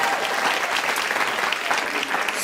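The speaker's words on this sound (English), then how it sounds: "Give them a round of applause." A live studio audience at a game show claps for the producers, a steady burst of applause lasting a couple of seconds with no talking over it.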